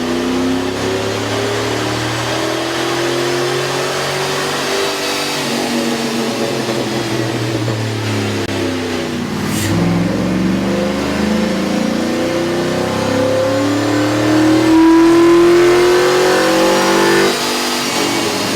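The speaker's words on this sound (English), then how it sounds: "With the air intake installed, we ran the vehicle on the dyno to test the sound comparison versus the stock intake." A Cadillac Escalade 6.0-liter engine fitted with a K&N 77 Series intake revs on a dyno: a loud, steady mechanical drone whose pitch climbs through several rising sweeps and peaks toward the end, with no voices.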